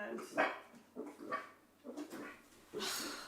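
A dog whimpers and gives short yips and barks while trying to be sick in the morning, several faint strained bursts spaced apart at a moderate distance.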